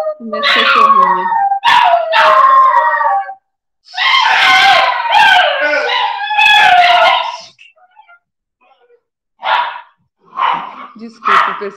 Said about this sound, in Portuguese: os cachorrinhos aqui do lado fazem barulho